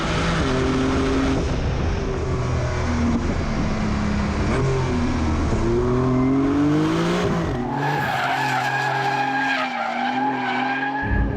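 A Porsche 992 Turbo S driven hard at the limit, its engine droning and rising in pitch under load while tires squeal and skid loudly, the tone shifting upward as the car is pushed through a corner.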